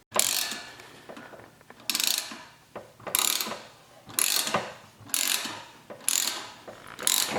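Ratchet clicking in repeated bursts while a downpipe is fitted to a VW MK7 GTI, about six fast runs of clicks with short pauses between them, close and clear with no talking.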